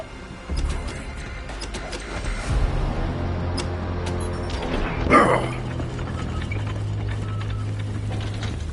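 A catapult is cranked in the video game Borderlands 3, heard as a run of mechanical ratcheting clicks and creaking gear sounds with low whirring hums underneath, fairly loud and continuous.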